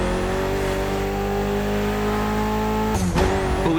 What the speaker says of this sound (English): Mitsubishi gave us a nice inline 4-cylinder with already 280 horsepower